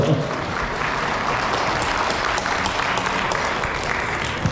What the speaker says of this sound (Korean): 박수 한번 세게 쳐주세